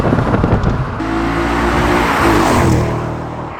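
A naturally aspirated 4.2-litre V8 engine in an Audi RS4 revs up and holds a loud, rising growl, heard close from inside the car.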